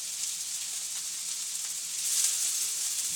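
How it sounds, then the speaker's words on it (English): Chopped red onion frying in olive oil and butter in a pan, a steady close hiss and sizzle that swells slightly partway through, with no talking. "put it in a pan with a little bit of olive oil and butter. And cook those red onions"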